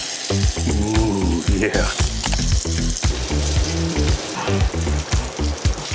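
Whiskey BBQ chicken sizzles loudly over an open campfire, a steady crackling fry with bursts of popping throughout, while a voice speaks briefly over it.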